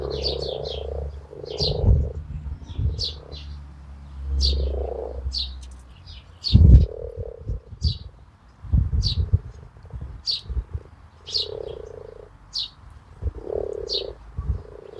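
Frogs croak in repeated low pulses in a Welsh garden, close and fairly loud, while high bird chirps recur throughout.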